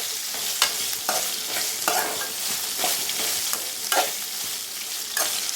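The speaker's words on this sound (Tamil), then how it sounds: "நல்லா எல்லா பக்கமும் வதங்குற அளவுக்கு நல்லா வதக்கிக்கோங்க" Green chillies sautéing in a pan for tamarind chilli pickle, a steady soft sizzle broken by repeated scraping stirs of the spoon at a fairly even pace, close and moderate in level.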